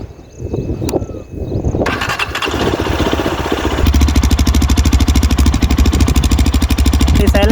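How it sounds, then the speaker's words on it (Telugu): A 2024 Yezdi Adventure motorcycle is cranked with the clutch held, catches after a brief whir, and settles into a loud, close, steady thumping idle that runs to the end. "ఇప్పుడైతే మన బండి ఆన్ చేసి దాని సౌండ్ ఎలా ఉందో చూద్దాము."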